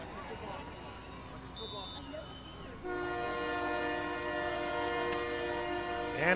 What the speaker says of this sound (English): You can hear the train in the background going by.